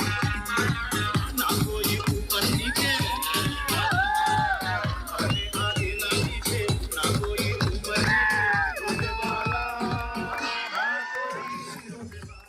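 A wedding crowd cheers and whoops loudly as a minister dances with the bride and groom in the procession, a dense, continuous roar of voices that fades out near the end.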